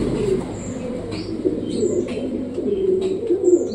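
Pet pigeons coo in low, repeated throaty calls, with a few faint chirps above a continuous background murmur.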